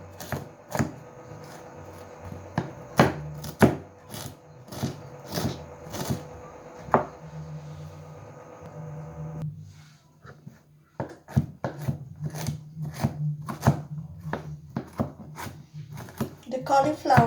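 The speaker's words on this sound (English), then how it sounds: "So all you need to do is cut cauliflower and mince it." A knife cuts and minces cauliflower on a board in quick, sharp chops, some in fast bursts, with a brief pause partway through and low background tones continuing.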